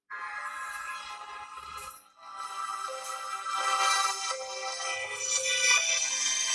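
A Xiaomi Redmi 4A phone's loudspeaker plays a melodic ringtone, bright sustained tones that start after a brief pause and continue loudly and steadily without any voices.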